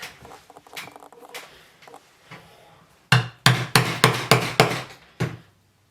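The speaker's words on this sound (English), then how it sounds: "I'm going to punch these with the stitching chisels" A hammer strikes stitching chisels through leather for a handmade bag: a few lighter taps, then about seven sharp, evenly spaced heavy blows close by, ending in silence.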